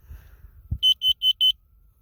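Four sharp, high electronic beeps in quick even succession from a smoke alarm being tested inside a van, loud and close, after a soft click.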